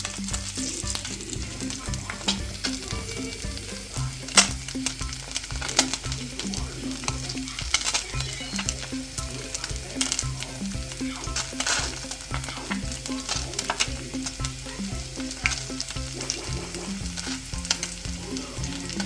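Chopped garlic frying in butter for a creamy Tuscan salmon sauce, a steady close sizzle with crackly bursts and occasional scraping of a utensil throughout, no voices.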